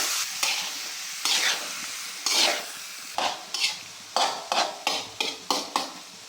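Eggplant frying with dried shrimp is stirred in a pan, each sweep of the spoon scraping and sizzling in an irregular run of strokes that quickens toward the end, close and clear with no talk.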